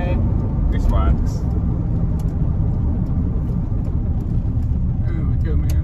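Road traffic passes close by, a continuous, loud, low rumble of car engines and tyres with no break from start to finish.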